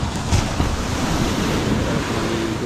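Sea waves wash steadily onto a busy beach on a Sunday, a continuous broad roar of surf with wind buffeting the microphone and no pause throughout.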